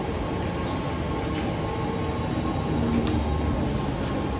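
Ambient rumble of a train at Dombivli railway station platform, a steady mechanical drone with faint metallic clicks and a brief tonal hum, no speech.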